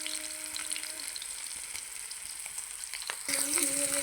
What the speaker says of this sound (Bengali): দেখতে পাচ্ছেন খুব সুন্দর করে চিকেনটাকে লাল করে নিচ্ছি